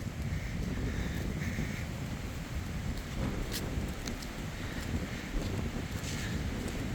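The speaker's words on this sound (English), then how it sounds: "It is too windy." Strong wind gusts steadily across the hills, roaring as loud, continuous broadband noise that buffets the microphone for several seconds with no voices.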